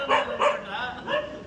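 A dog gives three short, sharp barks close by, the first two quick together and the third after a brief pause.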